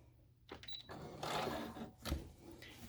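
A sewing machine back stitches a face mask in short bursts of whirring with brief pauses and a sharp mechanical clack near the end, fairly faint and close.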